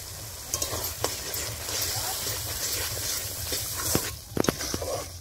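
Tomato chicken curry gravy with chilli and turmeric powder frying in a pan, a steady close sizzle broken by scraping clicks of a spoon stirring, with a few louder knocks near the end.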